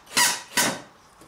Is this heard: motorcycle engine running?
no